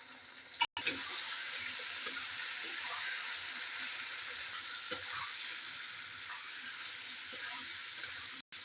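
Chicken gizzards frying in a pan give off a steady, even sizzle that runs nearly the whole time, broken by a few sharp clicks and scrapes of stirring, close and moderately loud.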